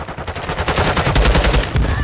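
Rapid automatic gunfire in a video game, a dense run of loud close shots with hardly a break for two seconds.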